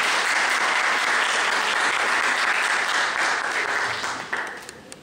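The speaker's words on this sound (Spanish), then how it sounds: "les pido un fuerte aplauso para el doctor Walter Robles" Audience at a university law lecture applauding the speaker, dense sustained clapping from a crowd that stays loud and then tapers off into a few scattered claps at the end.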